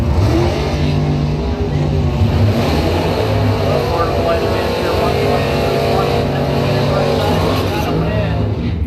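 1997 Ford Mustang drag racing at a bracket points event, loud engine roar from launching cars sustained throughout, with an announcer talking over it.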